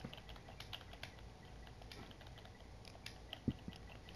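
Light typing on a computer keyboard while chatting during a Rocket League match: sparse, soft key clicks at an uneven pace, faint and close, with no talking.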